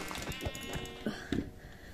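A Minecraft sheep bleats in short, nasal bursts, up close, with scattered game clicks and thumps around it.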